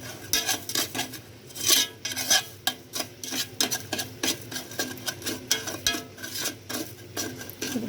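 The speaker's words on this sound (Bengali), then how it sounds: "এভাবে আস্তে আস্তে নাড়াচাড়া করতে হবে যতক্ষণ পর্যন্ত লাল না হয়ে আসে" A spoon stirs sugar in a pan to make caramel, scraping and rasping against the metal in a steady, close, rhythmic back-and-forth with frequent clinks; no voices.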